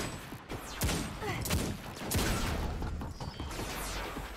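Repeated shotgun blasts and impact crashes from Destiny gameplay, several sharp broadband bursts in quick irregular succession over a dense, noisy game mix.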